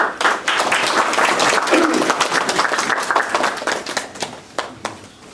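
An audience at a monthly meeting welcomes the Maldives ambassador with brisk applause that swells at once, holds for a few seconds, then thins into scattered single claps.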